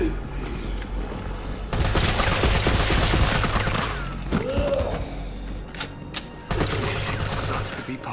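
Sustained gunfire in the Resident Evil 3 Remake game, a dense rapid burst of shots with heavy thumps, then a pause and a deep whooshing effect, with a second burst near the end.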